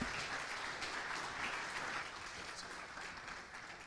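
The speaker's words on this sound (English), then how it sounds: "Round of applause." Audience applause at a Bitcoin developer education conference stage, a soft, fairly distant wash of clapping that holds steady and tapers slightly toward the end.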